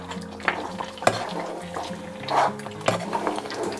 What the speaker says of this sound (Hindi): इसे हम अब अच्छे से मिला लेंगे।